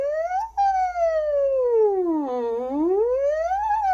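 A single voice hums a continuous nasal NG tone that glides down and back up like a siren, close and steady, imitating the wail of a siren.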